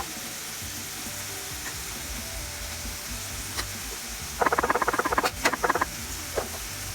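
Ground beef with onions and peppers frying in a pan, a steady sizzle under rapid scraping bursts partway through as the mixture is stirred, loud and close.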